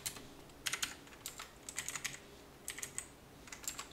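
Close, quiet typing of code on a computer keyboard: irregular clusters of light key clicks with short pauses between bursts, no voices.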